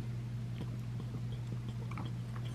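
A French Bulldog chews a treat with quick wet crunching and smacking bites, close up and fairly faint over a steady low hum.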